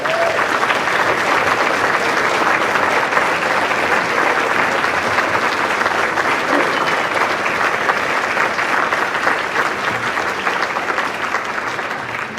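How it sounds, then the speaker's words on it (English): Sustained, full-room applause from a banquet audience greeting award recipients at a planetarium association's awards dinner, loud and even with no break for over twelve seconds. "Please hold your applause until I say all three."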